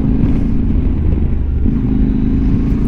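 Engine drone and road rumble from a 2025 QJMotor SRT 600 Touring motorcycle being ridden, a steady loud low-pitched hum with continuous wind and road noise and no voices.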